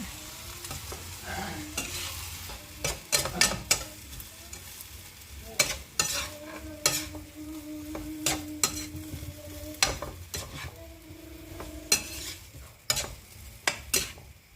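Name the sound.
stir-frying bihon noodles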